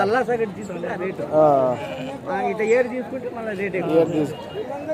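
Sheep and lambs bleat repeatedly at a weekly sheep and goat market in Kadiri, with several loud, close, overlapping cries rising and falling amid faint crowd murmur.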